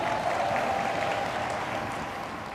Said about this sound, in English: You can give them a round of applause for that as well.